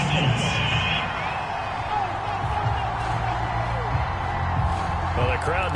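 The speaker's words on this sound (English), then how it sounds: "Well, the crowd doesn't like that." A displeased stadium crowd in a PS4 football game, a continuous roaring murmur of many voices with scattered shouts, under a commentator's talk.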